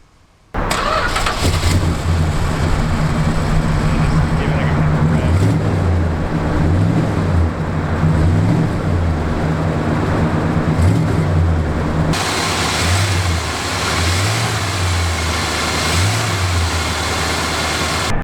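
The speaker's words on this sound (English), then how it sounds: "let's start this thing up so they can hear the engine first of all" A stock 440 cubic inch V8 engine cranks and catches, then settles into a loud, steady rumble with several rising revs, close by and without talk.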